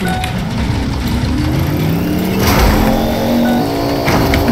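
A car engine revs and accelerates loudly during a chase in the game Fortnite, with rising engine tones building over several seconds and no talk.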